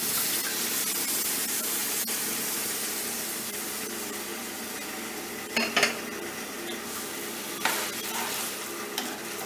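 Mutton frying in a pan, stirred now and then, with a steady loud sizzle throughout and a few brief scraping clinks from the stirring utensil, close up, no talking.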